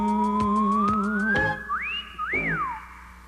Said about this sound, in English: Whistling is hard to do.